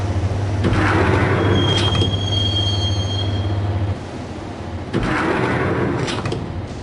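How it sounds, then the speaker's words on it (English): Steady rumble of a moving train in the video game Max Payne, with a high metallic wheel squeal partway through, then brief bursts of rushing noise from the carriage. "the train doors had already shut behind me, and I was in for the ride"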